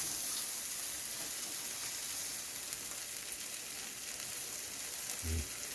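Buffalo grilled cheese sandwiches fry in olive oil on a griddle top, giving a steady, close sizzle with a few faint stirring touches near the end.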